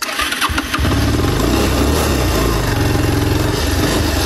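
A motorcycle engine cranks briefly, then catches and settles into a loud, steady, close idle with an even throbbing rhythm.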